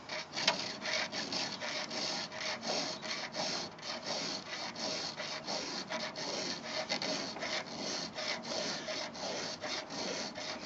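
A file rasps against a chisel tooth on a chainsaw chain in quick, steady back-and-forth strokes, loud and close, with no talking.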